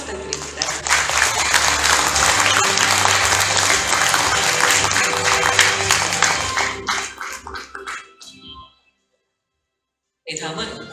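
Audience applause at the 40th White Cane Day ceremony, greeting a recipient of a commendation for dedication to special education for visually impaired people. Loud, sustained clapping fills most of the clip, then fades out into brief silence before a voice begins.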